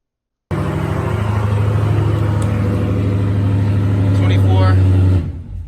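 Cammed Pontiac G8 GT V8 engine growling nearby, a loud, steady, deep rumble that holds for about five seconds before cutting off.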